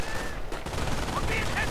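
Machine gun fire in a World War II strategy game battle, an MG42 and BAR rattling in dense continuous bursts amid other gunfire, loud and close, with a few higher electronic tones layered in.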